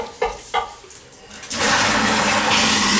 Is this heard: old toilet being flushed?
yes